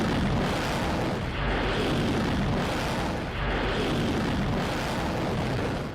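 A loud, sustained roar of an explosion near a Ukrainian army vehicle, a bridge being blown up, rolling as a dense rumbling wash that swells and dips in waves over several seconds with no voices.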